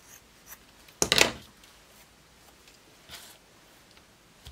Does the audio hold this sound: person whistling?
no